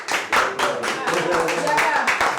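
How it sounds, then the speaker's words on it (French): Audience clapping at a French celebrity game-show taping, a steady burst of many hands with uneven rhythmic pulses, moderately loud and close, filling the moment with no voices over it. "Applaudissez pour mon gars."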